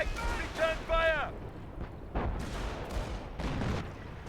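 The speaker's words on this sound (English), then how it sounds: "I hear Hummel firing somewhere" Deep booming artillery shots from a Hummel in Company of Heroes, several heavy rumbling blasts spaced across a battle soundscape, preceded by a short whining sound.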